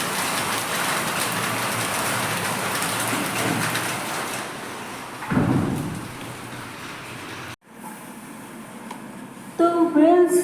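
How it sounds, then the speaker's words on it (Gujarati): Heavy rain pours steadily and loudly at a rural clinic, a dense hiss that continues, broken briefly partway through, with a voice speaking near the end. "ખૂબ વરસાદ આવી રહ્યો છે"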